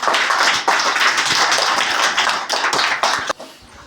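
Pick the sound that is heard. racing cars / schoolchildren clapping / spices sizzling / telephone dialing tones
schoolchildren clapping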